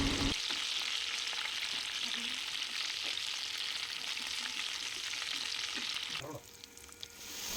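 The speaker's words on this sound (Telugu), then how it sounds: "పచ్చిమిరపకాయలు ఫ్రై అయినాయి కదండి, పొట్లకాయ ముక్కలు వేసేసుకున్నాము" Green chillies frying in a pan as ridge gourd pieces go in, with a steady close sizzle and a few soft clinks, the hiss fading sharply near the end.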